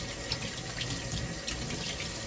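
A tap runs steadily into a sink while hands are washed with soap, a continuous close splashing hiss with small shifts in the flow and no speech.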